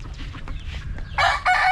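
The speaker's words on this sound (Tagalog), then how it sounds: "Maraming manok na si Boss Arman." Chickens and a rooster on a farm cluck and crow, a low steady murmur of fowl giving way to loud, near crowing bursts near the end.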